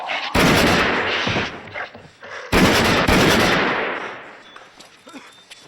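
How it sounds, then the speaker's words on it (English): Gunfire in the horror film Phantasm: two loud, close bursts of rapid shots, each cracking sharply and then trailing off into a long rumbling echo, with a short pause between them. "they just start blasting them with their guns"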